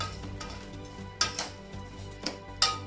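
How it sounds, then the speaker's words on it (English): Tomato rasam stirred in a cooking pot, a spoon scraping and knocking against the metal in a few sharp clinks over a low steady background hum. "Now give it a stir"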